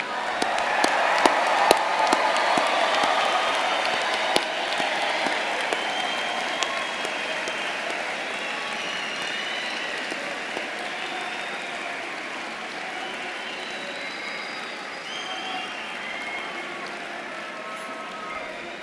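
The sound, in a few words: audience applauding new graduates at commencement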